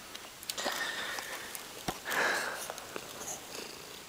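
A tired cat purrs softly and close by, a faint steady rumble broken by a few sniffs and small rustles, with no talk.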